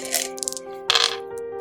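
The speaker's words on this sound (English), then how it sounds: "I'm gonna roll with another dice because this dice has like given me one good roll" Dice rolled at a tabletop game, a bright rattling clatter in two quick bursts as they tumble and settle, close and fairly loud, with no talking over them.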